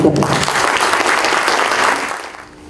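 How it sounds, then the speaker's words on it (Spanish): Seminar audience applauds to welcome a speaker at a seismic building design lecture, a loud, dense roll of clapping that carries on steadily, then fades out near the end. "lo recibimos con un fuerte aplauso"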